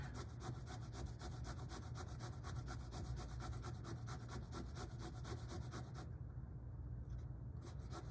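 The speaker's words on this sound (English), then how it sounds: "Grate just a little bit more here." Zucchini is rubbed over a grater in steady rapid strokes, producing a continuous close scraping rasp that briefly thins out near the end.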